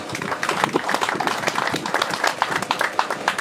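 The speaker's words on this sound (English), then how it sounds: "I would like to ask everyone to just give a clap for everybody who has made it for this event" An audience at an event claps together in a dense, continuous burst of applause. The claps are fairly loud and close, with a faint murmur of voices underneath.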